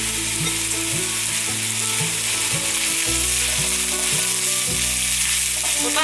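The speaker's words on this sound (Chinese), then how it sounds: "锅内热一些油，大约是5汤匙的油，把高丽菜丝放进来" Shredded cabbage hits about five tablespoons of hot oil for a Malaysian taro cake dish, giving a loud, unbroken close-up sizzle with music playing underneath.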